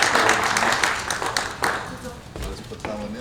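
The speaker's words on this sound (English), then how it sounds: "big round of applause" Audience applause at a homeownership summit, a dense patter of many hands clapping that swells at first and then thins out, with crowd voices mixed in toward the end.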